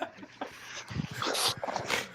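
A dog gives short yips and whimpering barks, fairly close and slightly muffled, in a brief burst over a noisy background.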